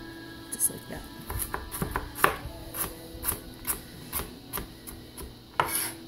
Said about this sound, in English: then cut them in small little cubes